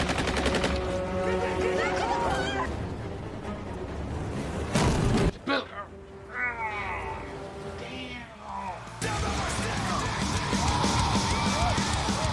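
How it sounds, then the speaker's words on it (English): Gunfire in a scene from the film Legion, dense rapid bursts of shots with booms and shouting voices over a film score, broken by a brief lull before the firing resumes. "Shoot. Start firing."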